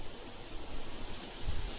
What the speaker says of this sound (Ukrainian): Ще вітер такий почався, дивіться як несе.